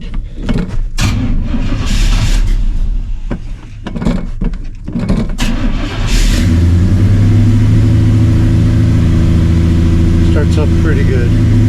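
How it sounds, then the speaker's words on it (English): A Blueprint 350 crate engine, cold after sitting four or five days, cranks in choppy bursts with some background clatter, then catches and settles into a loud, steady rumbling idle. "I'm going to start it up, drive it around a little bit, let you see the dieseling that it's doing"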